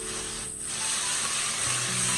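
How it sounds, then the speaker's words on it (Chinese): Tofu pieces pan-frying in hot oil in a wok, seasoned with a little salt, give a steady, close hiss and sizzle throughout, with no talking. "我们要提前把豆腐煎制一下"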